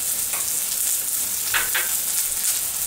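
Green chilli, onion and carrot fry in a pan for veg Hakka noodles, making a continuous hissing sizzle with a few soft stirring clinks, close and even, with no voices.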